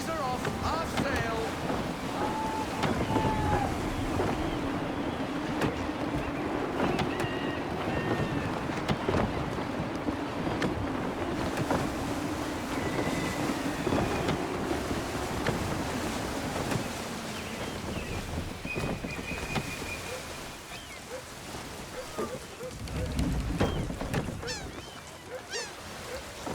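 Gusty wind buffeting a sailing ship in Assassin's Creed III, a continuous rushing roar of wind and water with creaks and scattered calls, voices heard over the din.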